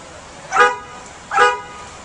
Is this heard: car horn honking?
yes